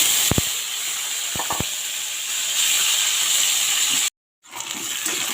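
Mango pieces frying in a little oil after a crackling mustard seed and chilli tempering, a steady hiss and sizzle with a few sharp pops near the start and a brief dropout near the end.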